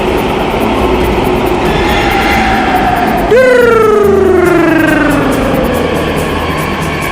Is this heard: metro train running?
yes